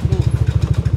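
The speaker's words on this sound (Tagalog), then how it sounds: "Park ko lang itong motor" A motorcycle engine runs close by in a steady rapid chugging idle rhythm as the bike is brought in and parked, with a faint light clatter over the engine pulses.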